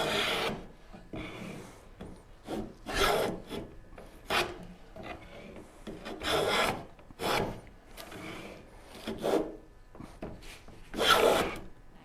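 A hand plane shaves saw marks off a wooden workpiece for a Shaker Enfield cabinet. Close rasping strokes repeat in a steady back-and-forth rhythm, each one a loud swipe with short gaps between, and no talk.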